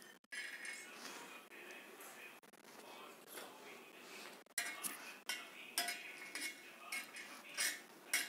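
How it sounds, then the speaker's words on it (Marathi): Cashews, almonds, raisins and sunflower seeds are stirred in a metal pan, with a spoon scraping and clinking in a steady, uneven rhythm, fairly quiet and close. "आता आपल्याला हे ड्रायफ्रूट भाजून घ्यायचं आहे थोडं"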